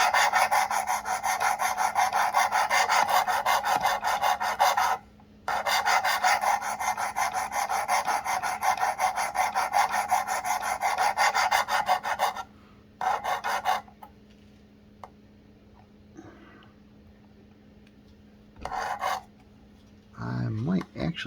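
A knife is sharpened on a Work Sharp Precision Adjust sharpener, with long, even rasping strokes in steady runs broken by brief pauses, then sparser rubbing and scraping near the end, close and dry.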